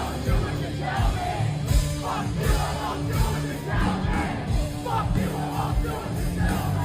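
Concert crowd at a live performance yelling and whooping over loud rock music, the cheers swelling in repeated bursts throughout.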